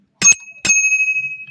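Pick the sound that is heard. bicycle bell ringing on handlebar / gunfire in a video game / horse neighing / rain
bicycle bell ringing on handlebar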